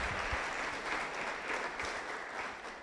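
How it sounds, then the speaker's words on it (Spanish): A church congregation breaks into loud, sustained applause, a dense even wash of clapping filling the room without pause and with no talk over it. "Dele un fuerte aplauso a Jesús."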